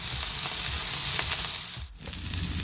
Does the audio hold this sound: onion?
yes